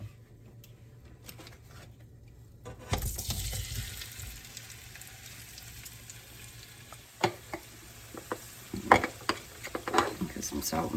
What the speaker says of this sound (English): All right, I'm gonna cook my potatoes.